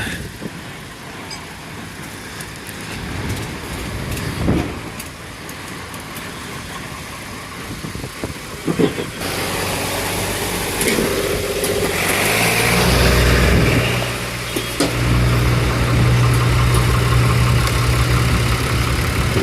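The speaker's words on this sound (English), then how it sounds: "Lovely smooth running tractor." An old 45-year-old Ford tractor engine idling at a steady rumble with traffic and background chatter, growing louder and fuller partway through as another engine runs nearby.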